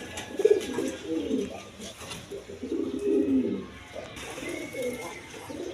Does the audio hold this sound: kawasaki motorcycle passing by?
no